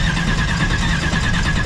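Chevrolet S10 truck engine held on the trans brake during a test, a loud steady drone with a rough, pulsing low rumble close by.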